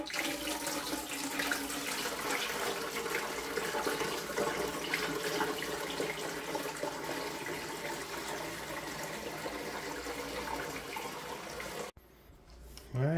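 Water runs steadily into the reservoir of a Gaggia Classic espresso machine, a continuous close pouring and splashing sound lasting about twelve seconds before stopping abruptly.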